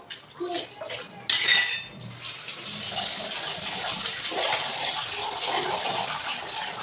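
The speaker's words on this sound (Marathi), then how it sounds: "स्वयंपाक वगैरे झाला बनवून, आता भांडे घासून घेते पाहिजे." Dishes are washed at a home sink under a running tap, with clinking pots and cutlery early on, then a steady rush of water over the plates. A faint voice is briefly heard.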